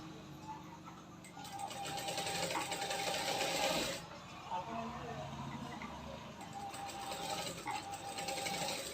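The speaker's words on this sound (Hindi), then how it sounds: "गोलाई वाले हिस्से में इस तरह से सिलाई लगानी है।" A sewing machine runs steadily while stitching the curved section of a katori blouse, its fast mechanical needle chatter continuous and close throughout, with a brief pause near the middle.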